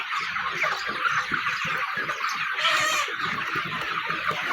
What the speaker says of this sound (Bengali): মার্শাল্লাহ দেখতে অনেক সুন্দর লাগতেছে এই মুরগিগুলো